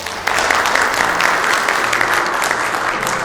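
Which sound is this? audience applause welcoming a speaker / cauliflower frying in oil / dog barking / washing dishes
audience applause welcoming a speaker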